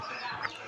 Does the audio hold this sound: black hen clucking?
yes